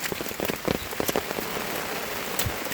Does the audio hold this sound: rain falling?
yes